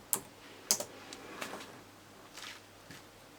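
Computer keyboard typing at close range while setting up a cake topper design: a few scattered, uneven key taps, two sharper clicks near the start and softer ones after, with no talking.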